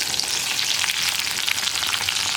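Soya chunks coated in cornflour fry in hot oil as they are flipped, an even, bright crackling sizzle held close and steady throughout, with no talk.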